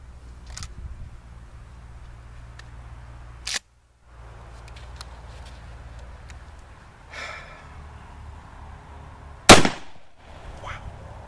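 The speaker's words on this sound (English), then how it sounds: "the Hornady Critical Defense, that 8 pellet load that's 1600 feet per second." A single loud, sharp shotgun blast from an IAC Hawk 981R firing Hornady Critical Defense 8-pellet buckshot at 1600 feet per second, outdoors at a berm, with a brief echoing tail after the report and quiet ambience before it.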